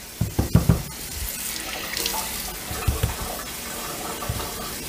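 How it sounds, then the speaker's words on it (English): A tap runs briefly onto a cutting board on a kitchen countertop, giving a steady close hiss of water, with a few knocks and thumps from handling before and during the flow. "I'm just going to add a little water."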